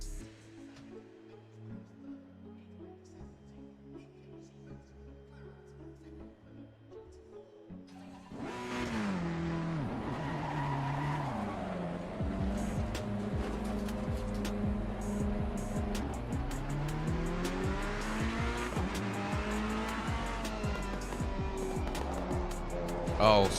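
Ferrari GT race car lapping Donington in Assetto Corsa Competizione, the engine swelling loudly after a quieter opening, revving and shifting steadily under dense sound, with a voice speaking over part of it.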